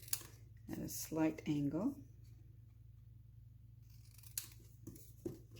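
Scissors snip through card for a pop-up vase fold card, giving a few brief, quiet crisp cuts. A voice speaks over the first part, and the later snips are heard alone.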